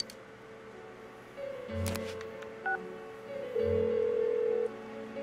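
A phone number is dialed in the video game Persona 4 Golden: a short run of electronic keypad tones, clear and close, with a couple of longer held beeps, no speech over it.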